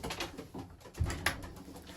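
Breeding pigeons, dropper birds and spare hens, coo softly in a loft, a low murmuring call with a couple of brief flutters or taps, steady and close.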